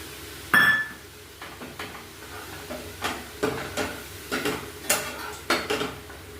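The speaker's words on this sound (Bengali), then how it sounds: "মশলার সঙ্গে কিছুটা ধনে পাতা দিয়ে দিচ্ছি। ধনে পাতাটা মশলার সঙ্গে একটু কষে নেব।" Spice paste and coriander leaves are stirred in a pan for a radish kofta curry, with a faint low sizzle under repeated clinks and scrapes of a utensil against metal, close by.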